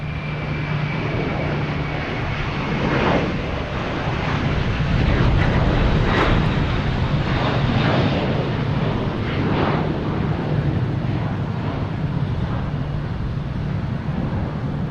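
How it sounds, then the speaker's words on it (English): A JetBlue Airbus A321 jet takes off from Boston Logan Airport, its engines roaring loudly and steadily throughout, swelling at the middle and easing slightly toward the end. "Is an A321 JetBlue 1487 heading to LAX."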